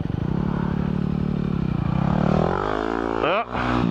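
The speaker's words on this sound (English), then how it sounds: "His new Yamaha WR250R, or as Cycle Cruiser says, WR250 fucking R." A Yamaha WR250R dual sport motorcycle engine runs close by with a rapid pulsing putter that rises in pitch as it revs up, then briefly cuts out near the end before picking up again.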